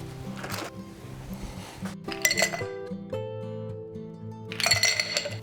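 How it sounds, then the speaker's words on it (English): Ice clinks and rattles into a mixing glass while a margarita is being made, with bright glassy clatters in bursts near the start, middle and end, loud and close, over a steady low hum. "Next, I'm gonna add ice into a mixing glass."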